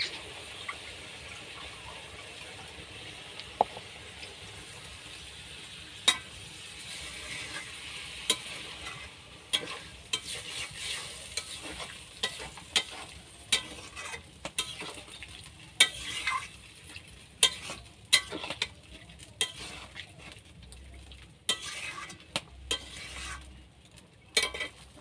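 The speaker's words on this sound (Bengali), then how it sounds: "এবার একটু ওটা ফুটবে" Potato curry bubbling in a pan after water is poured over the fried potatoes, a steady low simmer with scattered soft pops and clinks throughout, no voices.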